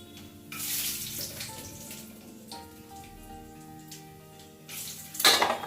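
Flattened rice (chira) being washed under running water at a kitchen sink, with a steady gush of tap water that swells in bursts and splashes, with no one talking.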